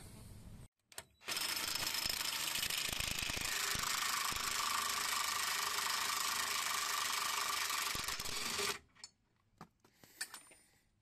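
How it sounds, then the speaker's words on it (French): A power tool, likely an impact wrench, runs in one loud continuous burst of about seven seconds on the 30 mm brake drum nut of a Renault Twingo, followed by a few faint clanks. "Donc maintenant il faut défaire l'écrou du tambour. C'est du 30."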